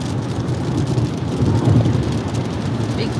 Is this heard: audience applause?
no